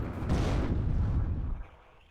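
Artillery fire in the video game WARNO produces a loud, deep, rumbling blast that sustains briefly and then tails off into a fading low rumble.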